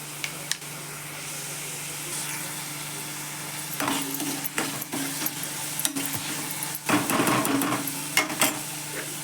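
Homemade onion-garlic masala goes into a gathi shev curry in a hot pan, with a steady low sizzle and scattered stirring scrapes and clinks that grow busier partway through. No one speaks.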